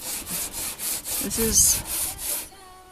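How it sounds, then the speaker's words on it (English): Rhythmic back-and-forth rasping of sandpaper on the wood of a houseboat repeats steadily, about three strokes per second, close by, with a brief voice partway through. "This is the initial sanding on the other side of the boat."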